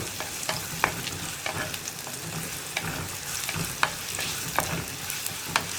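Sliced onions fry in a pan with salt added, giving a constant crackling sizzle with light, irregular scrapes and taps from stirring, close and steady with no voices.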